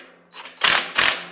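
A 14 mm wrench tightens bolts on a MEEFAR folding hitch-mount cargo carrier, giving two quick, close, loud bursts of clicking metallic ratcheting with a brief gap between them.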